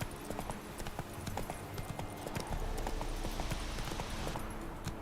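A horse gallops in The Witcher: Wild Hunt game, with rapid rhythmic clip-clop of hooves, steady and close throughout, under a low ambient bed with no talking.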